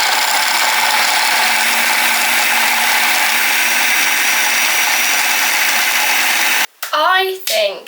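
A handheld electric whisk whirs loud and steady while beating cookie dough for Halloween cookies, then cuts out abruptly near the end as a voice begins speaking.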